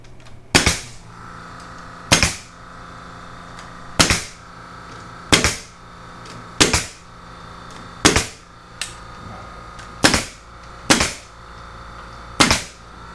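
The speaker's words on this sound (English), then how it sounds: "now we'll put a bunch of staples in it" Staple gun driving staples into bent wood for a vintage-style micro camper frame, about ten sharp loud snaps spaced roughly every one to two seconds, each with a short decay, over a quiet background.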